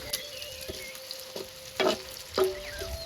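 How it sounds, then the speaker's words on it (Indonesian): Rawon spice paste frying in oil, a quiet, thin sizzle broken by a few louder scraping stirs of the spatula in the pan. "ini bumbunya digoreng"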